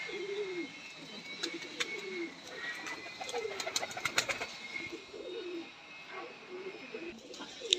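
Pigeons in a loft of prized show birds coo again and again in low, rolling phrases, with a few faint chirps and flutters mixed into a steady background.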